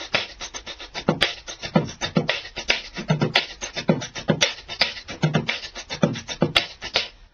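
A beatboxer's mouth imitates a drum kit: a kick and a snare drum, with hi-hat fills between them, in a steady quick pattern, close and alone.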